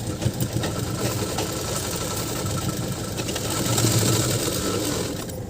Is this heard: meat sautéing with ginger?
no